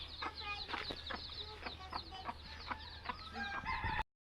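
Hens cluck close by beside a brood of seven chicks hatched three or four days earlier, sounding a steady run of short repeated calls that continue without pause before cutting off abruptly near the end.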